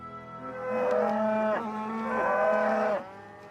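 Cattle on a Scottish island farm give two long, loud, deep moos back to back, close by with no talking.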